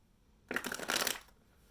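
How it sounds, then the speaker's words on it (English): A single quick riffle shuffle of a deck of tarot cards, close and fairly soft, lasting about a second amid otherwise quiet surroundings. "I've already shuffled the deck several times. I'm just going to shuffle it 2 more."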